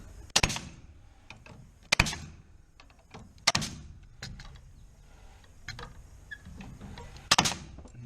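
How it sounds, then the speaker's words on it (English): A metal connector nail gun drives 10D nails in a series of sharp, loud bangs, about five or six shots spaced irregularly, with quieter handling clicks and clatter between them. "So this is the metal connector gun that we're using."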